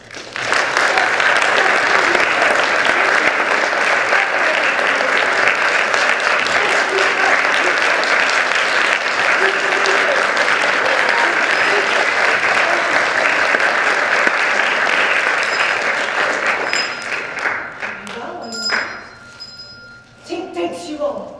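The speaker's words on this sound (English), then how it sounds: "If you believe in Tink, clap your hands." A high school drama audience at a Peter Pan performance claps hands for Tink in a long, loud, continuous burst of applause that tapers off near the end, with a few voices and cheers breaking through.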